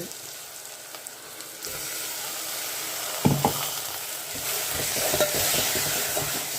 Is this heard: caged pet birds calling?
no